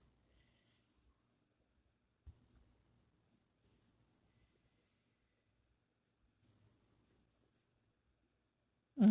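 A pencil sketches a Labrador on paper in faint, intermittent scratches amid near silence, ending with a sudden louder knock.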